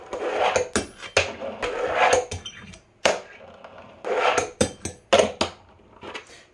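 A fingerboard slides and grinds on a wooden fingerboard park, with scraping rolls, sharp wooden clacks and taps from landings, all close and unaccompanied by talk.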